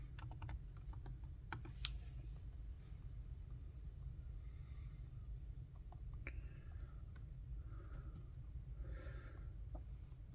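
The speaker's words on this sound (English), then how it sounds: "when we come to this gematria calculator, when we type in the word" Typing on a computer keyboard to enter a word into a gematria calculator: quiet, irregular key clicks over a steady low hum, faint and continuous with no talking.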